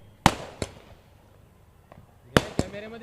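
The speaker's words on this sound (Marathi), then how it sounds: "पाहतोय की आपण आता होळीचे फटाके" Firecrackers bursting at a cricket tournament celebration, several sharp, loud bangs spaced apart with a pair close together near the end, echoing outdoors.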